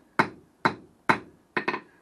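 Light hammer taps on 3/8 inch round steel stock being forged into wall hooks: four crisp metallic strikes, evenly spaced, with the last a quick double tap, each decaying fast, with no talk.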